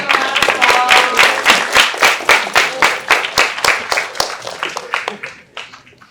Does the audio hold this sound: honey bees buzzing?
no